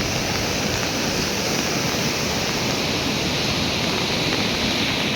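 Pressured water of a stream rushes down a rainy green mountainside, an unbroken loud roar of fast-flowing water heard up close with no speech.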